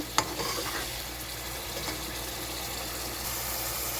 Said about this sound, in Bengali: রসুন বাটা এখানে মশলাটা ভালো করে কষায় নেব